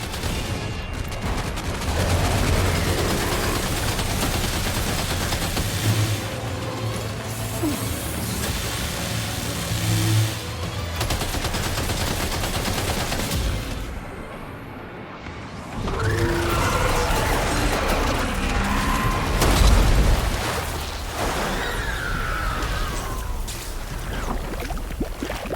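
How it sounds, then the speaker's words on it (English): Sustained gunfire from the video game Death Stranding 2 On The Beach, fired against a giant ghost mech, blending with engine rumble and dense battle noise at steady loudness, with a brief dip in the middle. "Opening fire now."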